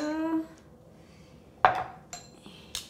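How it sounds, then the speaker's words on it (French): Salad greens tossed with vinaigrette in a bowl, with a few distinct clinks and scrapes of utensils against the bowl after a brief spoken voice at the start. "On va venir touiller"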